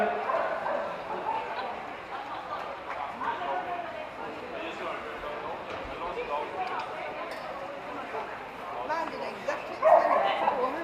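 Dogs yip and bark intermittently amid the echoing hubbub of a busy indoor championship dog show, with a voice talking over the crowd noise.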